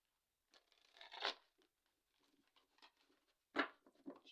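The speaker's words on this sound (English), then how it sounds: "One more shuffle." Tarot cards shuffled close up in a quiet room, giving soft papery riffles and flutters in a few short bursts with pauses between them, the sharpest burst coming near the end.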